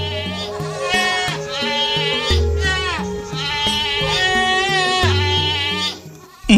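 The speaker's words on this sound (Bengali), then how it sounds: "আর ছাগলগুলো খুব জোরে জোরে ডাকতে থাকে।" Cartoon goats bleat loudly and repeatedly in wavering cries over a rhythmic musical backing, the calls close and almost unbroken until a sudden thump at the end.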